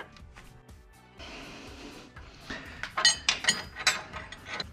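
A 17 millimeter hand wrench works a bolt, first soft clicks then a run of sharp metallic ratcheting clinks and scrapes, close and fairly quiet with no talk.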